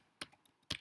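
A few quick, crisp keystrokes tap on a computer keyboard, irregularly spaced and close by, in an otherwise quiet room.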